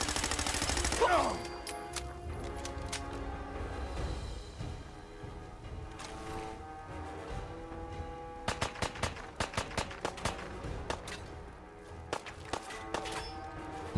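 Rapid sharp gunshots from a 10mm pistol in the video game Fallout 4, fired in quick bursts during a firefight in Survival Mode at Downtown Boston Technical High School, with game ambience between volleys.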